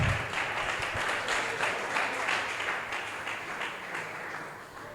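A church congregation applauds during a sermon, a full, rhythmic wave of many hands clapping that swells at first and then gradually tapers off over several seconds.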